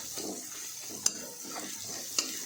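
Masala stirred and roasted in a pan over medium gas for a drumstick sabji, making a soft, steady frying hiss with two small clicks of a spoon against the pan.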